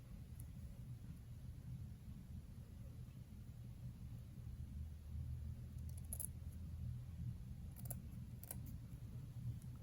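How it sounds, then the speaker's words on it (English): Faint, brief snips of scissors cutting wig lace, a few quick crisp clicks spaced apart over a low steady background rumble. "I'm going to take the scissors and I'm going to cut a little bit of that"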